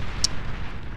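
Artillery fires in a 2v2 strategy video game battle: a loud, continuous rumbling barrage with one sharp, bright crack near the start, and no talking.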